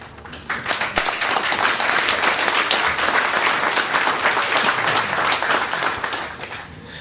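A cheering section claps at a school board of trustees meeting, a dense, steady burst of applause from a small crowd lasting several seconds before tapering off.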